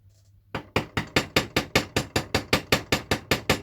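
A hammer strikes a rivet head in a steady run of about fourteen sharp, ringing metallic blows, evenly spaced and close up, with no talk.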